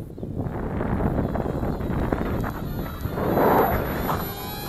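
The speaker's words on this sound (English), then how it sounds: "That wind is really picking up now." Strong wind gusts buffet the microphone outdoors while a small WLToys XK A150 Boeing 747 three-channel RC model is flown, a steady broadband rush that swells louder near the end, with no talk.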